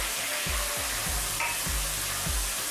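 Garlic frying in a pan hisses in a steady, bright sizzle while a utensil stirs it in repeated scraping strokes about every half second, close and clear with no talking.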